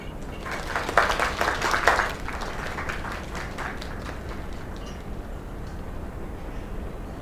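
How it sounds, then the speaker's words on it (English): A short burst of clapping and cheering in a video game rises, then fades into a steady background hum. "Another round of applause."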